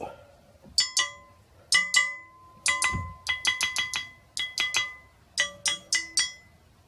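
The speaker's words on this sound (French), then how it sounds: "si le canon sonne comme une cloche, c'est qu'il est en bon état" A shotgun barrel is tapped repeatedly with the wooden handle of a screwdriver, and each strike rings out with a clear, bell-like tone that decays quickly. The taps come in irregular clusters.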